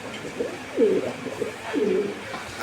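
Pigeons at a Bangladeshi pigeon market gallery give two clear, low rolling coos close by, spaced about a second apart, against a faint murmur of background noise.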